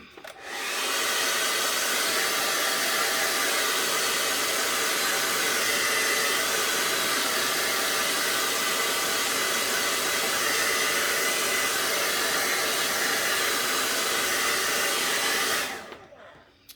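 A hair dryer blows steadily on acrylic paint for a painting, a loud constant whooshing drone that switches on at the start and cuts off near the end, with no talk.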